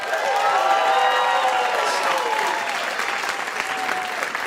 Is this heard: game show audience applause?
yes